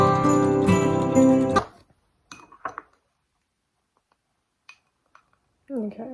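A tablespoon is pulled from a drawer of metal cutlery, making a loud, close jangle of clinking utensils for about a second and a half. Then it goes nearly quiet, with faint scattered voice sounds.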